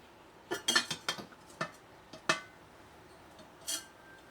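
A borosilicate glass cookware lid being handled, giving a short cluster of bright clinks and taps followed by a couple of isolated clacks, close and fairly quiet with no talking.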